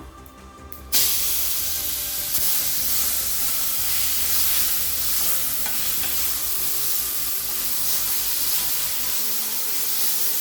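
Grated raw mango sautéing in sesame oil for a Tamil mango thokku, a steady close sizzle and hiss after a brief quiet start, with occasional stirring scrapes and no talking.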